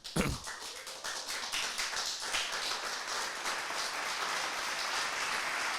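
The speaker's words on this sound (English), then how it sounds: "Actually, let's give them a round of applause." A small live-show audience starts clapping with a sharp first hit, then builds into a quick, scattered round of applause that holds steady.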